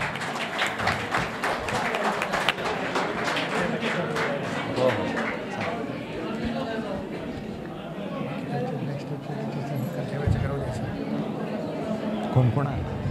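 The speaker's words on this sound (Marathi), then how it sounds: "जोरदार टाळ्या TY स्वामी सरांसाठी" Sustained applause from an audience at a Government Ayurvedic College alumni meet in Dharashiv, honouring a teacher, with dense steady clapping and crowd noise that fills the room throughout and swells slightly near the end.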